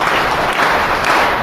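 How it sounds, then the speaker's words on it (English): Audience at the Cities Summit of the Americas youth event clapping for Obama Foundation scholars: a short, loud, dense burst of crowd applause, close and continuous throughout. "let's give 3 big thunderous claps for the Obama Foundation scholars"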